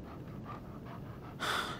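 A dog panting in Life is Strange 2, soft rhythmic quick breaths at low level, followed by a louder breathy burst near the end.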